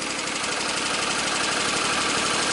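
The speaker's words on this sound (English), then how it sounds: "Running on both cylinders now. Got a little bit of tappy tap." A Kohler Command twin engine runs steadily on both cylinders, its loud even drone carrying a light, rapid lifter tapping throughout.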